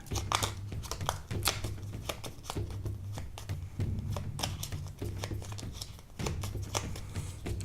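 Board game cards are shuffled nearby in quick rustling, flicking bursts that repeat unevenly, fairly quiet, with no one speaking.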